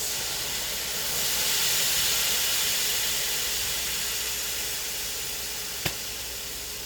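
Sherry hitting a hot pan of cooking soup base, a loud steamy hiss that swells and slowly fades, with a brief clink near the end.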